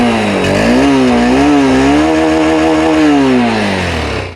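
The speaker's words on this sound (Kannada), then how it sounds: "ಇದರ ಎಕ್ಸಾಸ್ಟ್ ನೋಟ್ ಕೇಳಿಸ್ಕೊಳ್ಳಿ." A Honda NX 200 motorcycle's engine revs loudly and close up in a steady drone, with the exhaust pitch rising and falling through several throttle blips before easing off at the end.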